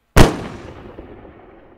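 A single loud gunshot cracks out up close in a dramatic roleplay scene, its sharp burst followed by a long, fading echo.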